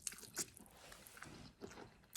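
Close, quiet chewing of spicy Thai chicken feet noodle salad (yam tin gai), with a few soft wet bites and crunches spread over a couple of seconds.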